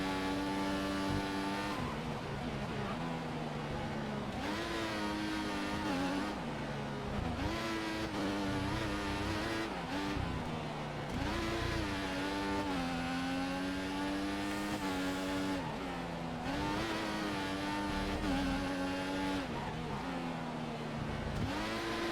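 Formula 1 car engines in the F1 2014 racing video game scream loud and close, rising and falling through gear changes over a long continuous stretch, with no talking.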